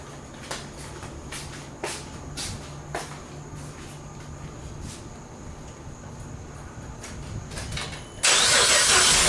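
A 2008 GMC Acadia with a single-cylinder misfire sits quiet with a few faint clicks and taps before its engine cranks and catches near the end, a sudden loud steady roar up close.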